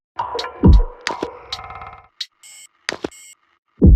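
Drum beat built from sampled artifact sounds, with punchy low kicks, sharp clicks and short buzzy tonal bursts in a sparse, stuttering pattern separated by brief silences.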